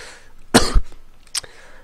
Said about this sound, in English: it is a cough that sort of is brought about by talking